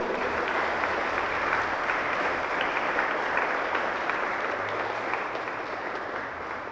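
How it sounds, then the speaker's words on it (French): A congregation at a Saturday Mass applauds the parents, a continuous dense wash of clapping from many hands that holds steady throughout. "Alors on va les applaudir bien fort."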